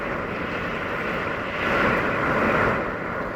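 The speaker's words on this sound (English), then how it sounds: "Another big gust." Strong storm wind gusts roar through a beachside campground at Myrtle Beach, a continuous broadband rush that swells louder in the middle before easing back, with no voices.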